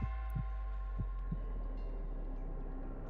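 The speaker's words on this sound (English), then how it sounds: "Heavy heartbeats echo rarely, dull drumming within the hollow of her chest." A heavy heartbeat thuds four times in the first second and a half of a Punishing: Gray Raven game scene, dull and low over a steady droning hum, then fades into the hum alone.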